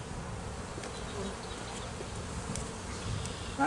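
Honey bees buzz steadily around an open hive during late-winter feeding, a continuous close insect drone with no talking.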